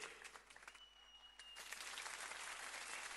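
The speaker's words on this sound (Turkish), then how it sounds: "Bak alkış buradan da gelmeye başladı." Applause fills a hall at a traditional association gala night, starting as scattered claps and swelling into dense, sustained clapping from a crowd.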